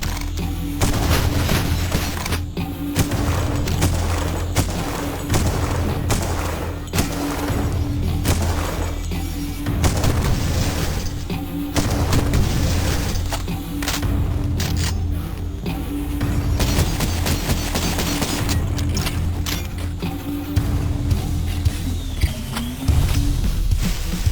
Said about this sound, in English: So this is kind of like our sniper rifle. Shooting cultists in a barrel.